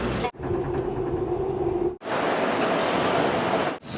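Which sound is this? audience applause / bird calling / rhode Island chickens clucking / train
train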